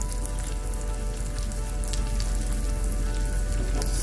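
A thick salmon fillet cooks covered in a pan over low heat, giving a steady, gentle sizzle with a soft crackle that holds at an even level throughout, with no voices.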